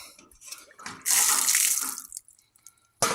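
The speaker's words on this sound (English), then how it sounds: "I think I got these washed pretty well" Chicory roots being washed under a running tap: quiet water trickles and splashes, then a louder gush of running water for about a second, a lull, and a final burst at the end, with no voices.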